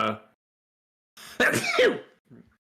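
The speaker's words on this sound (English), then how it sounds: "I'm sneezing now." A short noisy burst, then after a pause a harsh, explosive sneeze-like blast followed by a small trailing snort, close to the listener.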